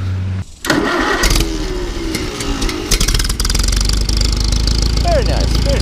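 An old farm tractor engine cranks and catches, then settles into a loud, steady, throbbing idle close by, with a voice talking over it.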